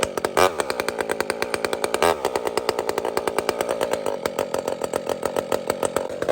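A ported Husqvarna 572 chainsaw fires up and runs loud and close, its engine buzzing steadily with rapid pulsing strokes and a couple of sharp revs.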